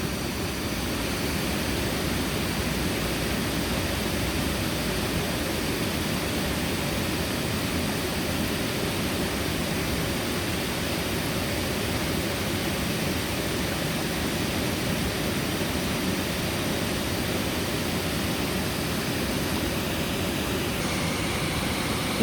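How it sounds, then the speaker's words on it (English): Steady, broadband rush of water careening off an edge, down rocks and into a waterfall basin, an unbroken hiss and roar holding the same level throughout with no voices. "notice the rushing sound of the waters as they careen off the edge, down the rocks and into the waterfall basin"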